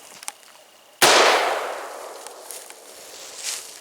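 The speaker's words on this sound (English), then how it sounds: "So we're shooting a 2-liter can of pop right there," A single sharp blast from a Mossberg Shockwave 12 gauge shotgun hits a shaken 2-liter soda container outdoors, followed by a long fading echo, with a few faint clicks before it.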